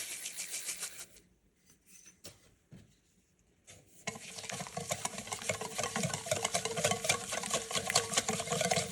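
Melted butter and vanilla brown sugar are whisked by hand in a bowl, a dense, continuous scraping and tapping rhythm that starts after a few quiet seconds of light clinks and grows louder and busier.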